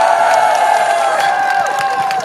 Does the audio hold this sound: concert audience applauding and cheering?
yes